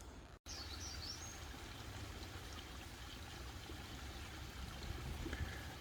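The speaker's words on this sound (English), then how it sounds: "So this is Bootjack Creek as it comes through the Bootjack Campground on its way to Muir Woods" Bootjack Creek flows through Bootjack Campground on Mt. Tamalpais, California, toward Muir Woods, as a steady, close rush of water over rocks, with a few faint bird chirps above the flow.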